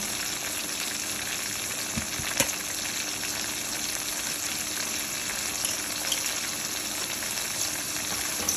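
Crushed cumin sizzles steadily in hot oil in a pot for chana pulao, a dense continuous frying hiss with a couple of small clinks, close and even throughout.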